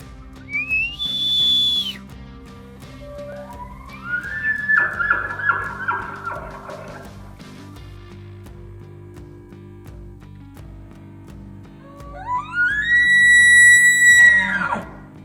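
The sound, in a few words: elk bugling while approaching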